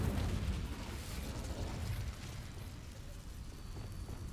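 An Incendio fire spell cast in a video game, a rumbling, whooshing fiery burst that starts loud and fades into a lower, steady roar.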